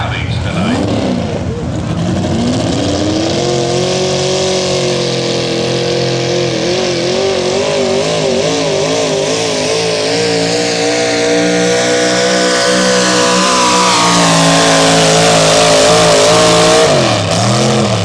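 A Hemi-powered pulling truck roars at a truck and tractor pull, the engine loud and sustained as it revs, climbs and wavers in pitch over about eighteen seconds, with no talk over it.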